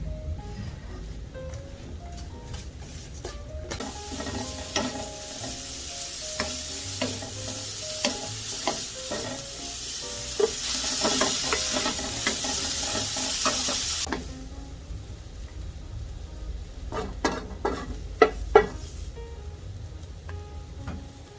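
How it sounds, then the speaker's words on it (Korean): Blanched plantain greens are stir-fried with garlic, salt and perilla oil, giving a steady close sizzle and a loud frying surge in the middle, with spatula scrapes and taps against the pan throughout. "질경이 나물 볶음이 완성됐습니다"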